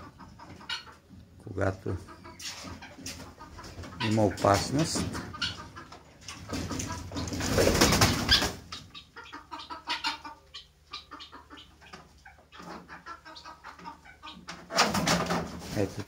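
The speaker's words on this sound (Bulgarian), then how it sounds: "Ето така крякат токачките," Guinea fowl in a rural poultry yard give harsh, repeated cackling alarm calls in bursts, with chickens nearby and a person talking close by between and over the calls.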